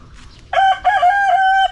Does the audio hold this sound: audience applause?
no